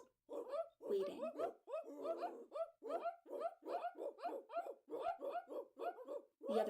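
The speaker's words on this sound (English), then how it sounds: "The other dogs start barking louder." Several dogs in a kennel bark in a steady, repeated rhythm, each bark close and fairly loud, continuing without pause.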